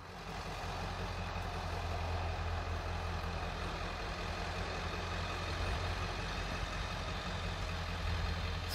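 Truck engine idling just after pulling out of a shop or garage onto a road, a steady low rumble heard from a distance, faint and unbroken with no voices.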